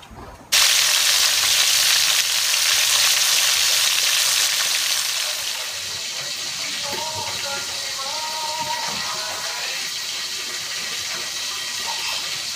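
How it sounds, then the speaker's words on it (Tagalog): Tilapia fish frying in a pan, a steady loud sizzle and crackle throughout, easing slightly in the second half with faint clinks over the hiss. "Luluto rin po tayo ng isdang tilapia. Ipiprito po natin."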